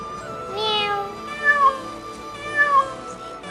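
A cartoon cat meows, with two clear rising-falling calls standing out over a busy animated soundtrack of music and effects; the cries are moderately loud and close.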